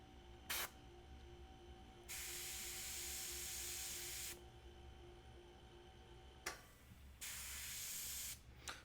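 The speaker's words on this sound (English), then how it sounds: "So this is definitely the airbrush that's messed up." Airbrush with a busted nozzle spraying paint in bursts, three or four long hissing sprays of a couple of seconds each with short pops between them, over a low steady background hum.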